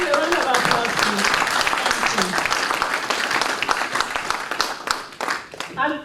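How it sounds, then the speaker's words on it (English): A crowd applauds with loud, dense clapping that continues throughout, with voices talking underneath and the clapping tapering off near the end. "Give a round of applause, please"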